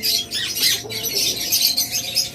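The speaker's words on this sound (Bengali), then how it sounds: "এছাড়া অসংখ্য পরিমাণ ঘুঘু পাখি রয়েছে" A busy bird market crowded with caged birds, doves among them, fills the air with dense, continuous chirping and squawking close by, with no talking.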